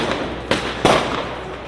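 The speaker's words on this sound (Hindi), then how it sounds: "हमारे कुछ त्योहार ऐसे हैं जिनमें खूब पटाखे छुड़ाए जाते हैं।" Firecrackers go off during a festival: two sharp loud bangs in quick succession over a constant crackling, smoky background roar, with no voices.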